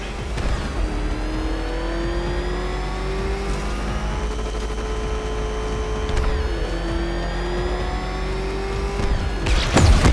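A car engine in Batman Arkham Knight drives hard, a loud, continuous whine with the pitch rising slowly and evenly, dipping abruptly once midway before climbing again, with rumbling underneath.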